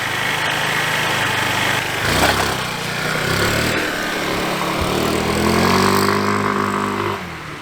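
A GY6 150cc scooter engine cranks and catches, settling into a steady, loud, buzzy idle close by and then rising slightly in pitch as it revs, with no talking.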